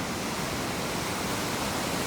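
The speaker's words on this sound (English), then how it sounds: "Here is Baxter Creek." Baxter Creek on a Sierra Nevada stretch of trail rushes loudly and steadily, a dense, unbroken roar of fast-flowing water heard up close with no voices.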